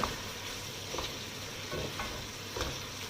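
Goat meat seasoned with a stock cube sizzles in a pot while a utensil stirs it, making a few soft scraping strokes over a constant frying hiss.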